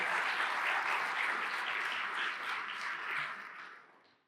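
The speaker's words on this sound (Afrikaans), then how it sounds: "Kom ons gee vir die leierskap 'n lekker hande klap" A church congregation gives the leadership a sustained round of warm applause, many hands clapping densely together before fading out toward the end.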